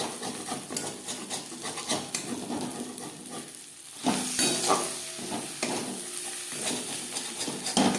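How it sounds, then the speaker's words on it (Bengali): Onions cooking in melted fish oil with spring onion sizzle steadily in a pan, with repeated scraping and clacking as a spoon stirs them close up. "এভাবে একটু নাড়াচাড়া করে দিতে হবে নাহলে তলা লেগে যাওয়ার সম্ভাবনা থাকতে পারে"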